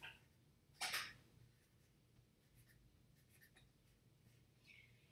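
A pen or marker scratches briefly across paper as a word is written by hand, one short, fairly loud burst of strokes followed by quiet room tone and a few faint taps.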